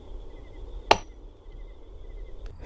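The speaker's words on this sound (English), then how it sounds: "when you cock the hammer, this actually ejects the case" A cocked hammer on a 150-year-old Flobert Cadet .22 rifle springs the action open to eject the brass case, giving one sharp metallic click, close and alone, over faint background hum.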